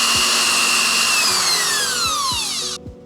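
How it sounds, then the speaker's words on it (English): A power drill whines loudly and steadily while drilling on a Mitsubishi Evo 9 during timing belt work, its pitch sliding down under load before it cuts off abruptly, with faint knocking underneath. "Let's go drill it."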